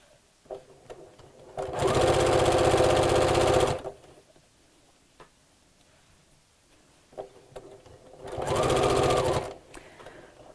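A sewing machine stitches bias binding onto two layers of fabric for a machine dust cover, running in two loud bursts with quiet pauses between them.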